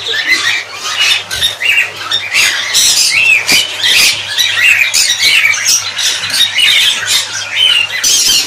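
Conures in an aviary cage give loud, close, overlapping squawks that come in rapid bursts throughout, with no talking heard.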